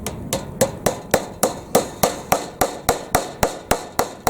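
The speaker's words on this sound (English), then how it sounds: "Then I take the hammer." Sharp hammer blows strike at a steady pace while building a dirt sifter, about fifteen hits in quick succession, each loud and ringing briefly before the next.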